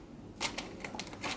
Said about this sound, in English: Just move this keyboard out of the way